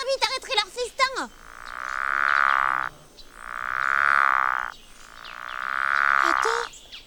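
A human voice imitates the call of a treetop frog. Brief talk comes first, then three long, loud, sustained croaking tones, each lasting close to two seconds with short gaps between them.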